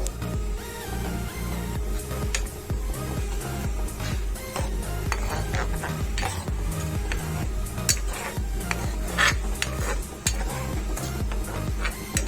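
Prawn gravy with lemon and salt simmering over low heat, with a low bubbling sizzle and frequent spoon-against-pan clinks and scrapes in an uneven rhythm throughout, no talking.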